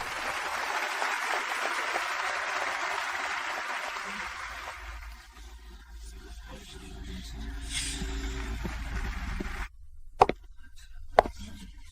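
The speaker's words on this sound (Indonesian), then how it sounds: "Selanjutnya mari kita sambut dengan tepuk tangan yang meriah." Audience applause at a conference keynote introduction, a broad steady clapping that fills the first half, thins and fades, then gives way to near silence broken by a couple of sharp knocks.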